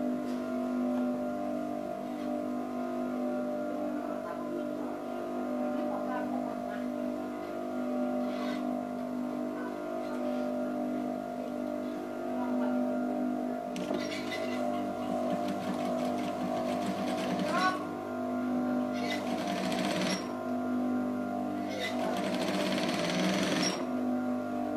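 A sewing machine stitches the darts of a kutu baru kebaya, joining the lining and lace layers, running in a steady continuous whir with a few louder bursts of faster stitching toward the end.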